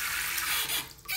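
Water sprays steadily from a swivel kitchen sink faucet aerator switched to a strong shower mode, a close, continuous hiss that dips briefly near the end before resuming.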